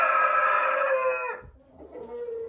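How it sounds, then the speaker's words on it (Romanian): Yellow hens imported from Germany give a close, loud burst of harmonic crowing-like calls, then soft clucks and faint shuffling follow. "Aici sunt niște găinuțe"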